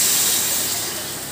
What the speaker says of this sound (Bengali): এবারে এর মধ্যে আমি গরম জল দিয়ে দেব।